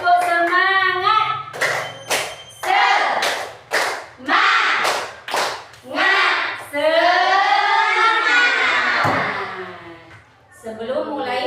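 A class performs a spirited clapping routine, a series of loud, evenly spaced group claps followed by children chanting together, with voices around the claps.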